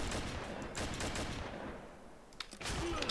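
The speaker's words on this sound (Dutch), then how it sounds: "Schot ik dat er nu naast?" Gunfire in a shooter video game: rapid, dense bursts of shots fill the whole stretch, loud and close, with a brief dip near the end before firing resumes. No one speaks.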